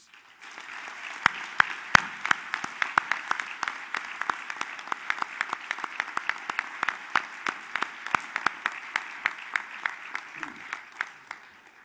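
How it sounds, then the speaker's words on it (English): Audience at an award ceremony applauds its seven finalists, steady clapping from a modest crowd with distinct individual claps standing out, sustained for about ten seconds before tapering off. "Let's give our 7 finalists one more round of applause"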